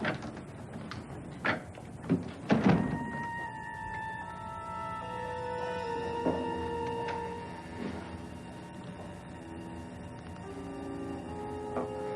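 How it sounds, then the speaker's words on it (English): An apartment door closes in a 1988 soap opera scene, with a few sharp thuds and clicks of the shutting and locking close together early on. Soft dramatic music with sustained tones continues underneath and after, and no one speaks. "I'll lock the door behind me"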